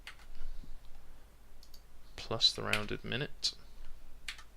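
Keyboard keys clicking as a formula is typed into a spreadsheet in Excel, a few scattered close taps heard under a man's speech.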